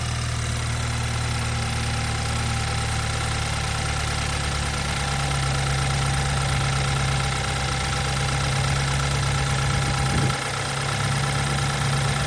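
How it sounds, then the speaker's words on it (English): BMW N20 engine in a 320xDrive with a new timing chain and oil pump chain, idling with the hood open: a steady, even hum with a faint ticking texture, continuous and close for the whole stretch. "Here is the sound after timing chain replacement."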